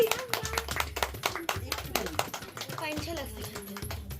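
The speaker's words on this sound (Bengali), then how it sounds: "হাততালি দাও সবাই" Several people clap hands together in irregular bursts at a Bengali baby's rice-feeding ceremony. The clapping runs under lively talk and voices throughout.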